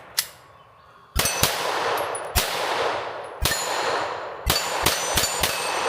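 Rounds from a Bul Armory 2011 pistol clang sharply off a steel spinner target, a string of bright metallic rings spaced irregularly, each ringing out with a short decay, fairly close.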